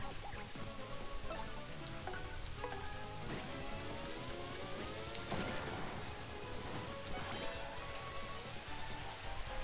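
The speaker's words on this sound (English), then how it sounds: "it's some serious rain going on out there" Heavy rain pours steadily outside, a dense, continuous hiss of drops striking surfaces at close range with no pauses and no voices.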